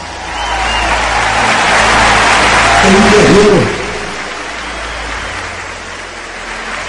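Congregation applauding Pastor Silas at a church event, a dense wash of clapping that swells then eases, with someone speaking over it near the end.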